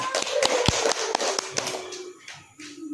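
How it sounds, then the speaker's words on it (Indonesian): Scattered, uneven claps break out from a small audience and fade toward the end, with a few louder hand strikes standing out. "Ya, tepuk tangan."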